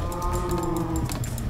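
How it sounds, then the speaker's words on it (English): Cows in the Minecraft video game moo loudly and close, a sustained low bellowing call with breathy texture, lasting the whole short stretch. "cows. They are loud now, huh? With that breathing noise?"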